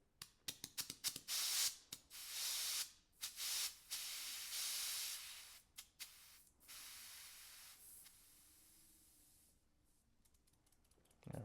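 Pressurised air purged from a 2023 Rock Shox Super Deluxe rear shock, heard as a series of sharp hissing bursts up close that start short and choppy, then run longer before fading to quiet.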